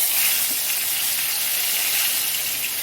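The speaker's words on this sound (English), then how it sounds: "Wow, that's the nice popping sound we want to hear." Cumin seeds pop and sizzle in hot oil, a steady dense frying hiss that holds close and fairly loud from start to finish with no voices over it.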